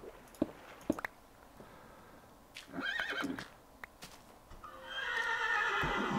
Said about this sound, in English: Are you laughing at me, horse?